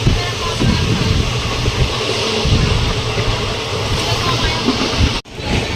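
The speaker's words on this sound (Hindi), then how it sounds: "गुड़गांव रेलवे स्टेशन पे ट्रेन एंट्री कर रही है।" A train entering Gurgaon railway station rumbles steadily with continuous wheel and carriage noise heard from on board, loud and unbroken, with a brief sharp dropout near the end.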